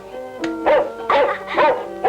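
A dog barks in a dramatized radio play, several short yaps in quick succession against a quiet studio background.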